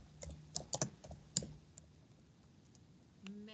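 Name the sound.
computer keyboard typing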